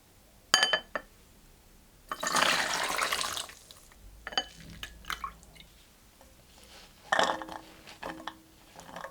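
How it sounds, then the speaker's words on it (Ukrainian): Water is poured off soaked orange peels, splashing in a few short bursts, with light clinks of glass or a container in between, close by and fairly quiet. "Після настоювання злийте воду."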